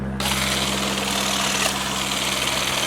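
An ALLOYMAN 8-volt cordless hedge trimmer cutting branches buzzes with a steady, close, vibrating motor hum and rapid blade chatter, running continuously after a sudden start.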